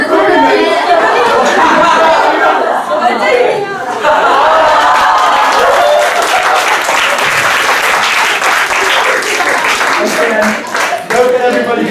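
A workshop audience bursts into loud, sustained applause that fills the room for the whole stretch, with chatter and chuckles mixed in, the clapping staying dense and steady with only brief dips.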